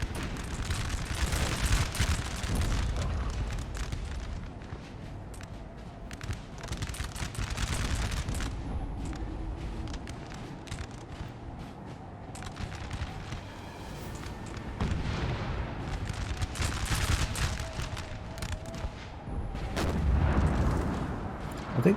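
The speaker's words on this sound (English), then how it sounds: "I think they're trying to fire canister shot." Canister shot artillery fire in Napoleon Total War rumbles through a battlefield din, with repeated booming volleys and crackling musketry over a dense, continuous mid-distance roar.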